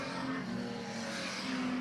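Street stock race cars circle the oval at Alexandra Speedway, a steady, dense engine roar from several cars at close range holding an even drone throughout.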